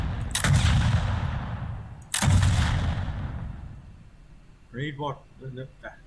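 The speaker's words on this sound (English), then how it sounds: "you can fire a grenade into a group of enemies and they all take damage or die from it" A grenade launcher fires twice in the HoldOut video game, each shot a loud blast followed by a long rumbling decay, then someone speaks briefly.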